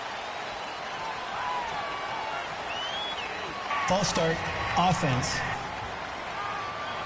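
Stadium crowd in the Madden 19 football game, with a broad roar behind a referee's call that briefly swells louder for a couple of seconds.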